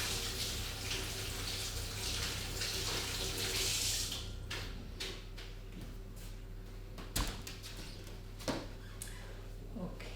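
Water running from a kitchen tap while hands are washed at a cooking station, a steady hiss that stops after a few seconds, followed by a few clinks and knocks under a low hum.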